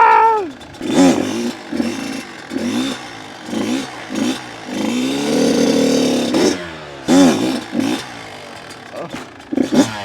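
A Kawasaki KX85 dirt bike engine revs hard during a straight wheelie attempt, with loud, close bursts of throttle that rise and fall repeatedly, including one longer sustained pull.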